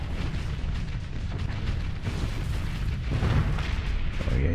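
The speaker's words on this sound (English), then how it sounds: "You are shooting your missiles." Ship-launched missiles firing and detonating during a space battle in the video game Starsector: a dense, continuous rumble of booms and crackling explosions, steady and fairly loud without clear gaps.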